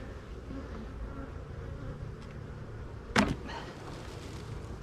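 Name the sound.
honey bees buzzing around a beehive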